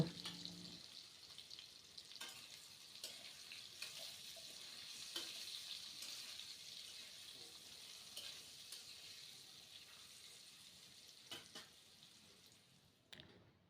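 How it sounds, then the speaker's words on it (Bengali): Potatoes frying with salt and turmeric, a soft steady sizzle with occasional stirring scrapes and taps, quiet and close, fading out near the end. "আলুগুলো একটু লবণ আর হলুদ দিয়ে ভেজে নেব"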